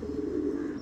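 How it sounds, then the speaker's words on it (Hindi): Pigeons in a home loft of about thirty to thirty-five birds with newly hatched squabs, giving a steady, close, low cooing drone that holds through the short moment without pause. "30-35 कबूतर हैं अपने पास"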